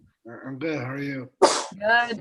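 A single sharp sneeze bursts out mid-conversation on a casual podcast chat, sudden and close, with people talking just before and after it.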